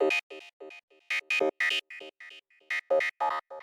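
Filterverse synth patch built from two saw oscillators, one raised an octave, through a bandpass filter: a run of short, bright, buzzy staccato notes in an uneven pattern, with brief gaps between them and no voice.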